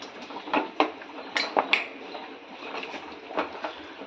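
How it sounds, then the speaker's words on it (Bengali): A spoon dips cauliflower florets into gram flour batter in a bowl, producing several sharp metallic clinks and taps against the dish amid soft wet stirring, close by with no speech. "হাত আর লাগাবো না, আমি চামচ দিয়ে দিচ্ছি।"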